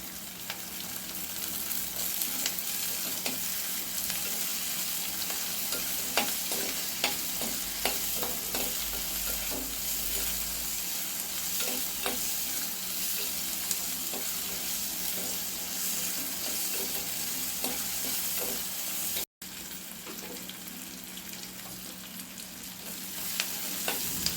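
Onions and curry leaves sauté in hot oil with a steady, close sizzle that lasts throughout, dotted with faint clicks and scrapes of stirring.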